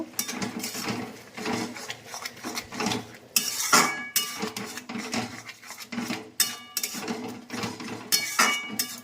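A utensil clinks and scrapes in a pan while Maggi noodles, cooked with bitter gourd, are stirred together with spice masala: close, irregular metallic taps and rattles in quick bursts.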